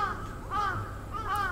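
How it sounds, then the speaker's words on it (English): A crow caws overhead on a Tokyo street near Kameari Station, two or three loud harsh calls in a short burst with a brief gap, heard close above over faint street ambience. "There's a crow right above me."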